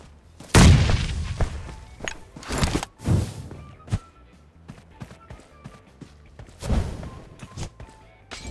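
A grenade blast in PUBG Mobile: one heavy, booming explosion, then several more thuds and impacts scattered over the following seconds, with quieter rattles and clicks between them.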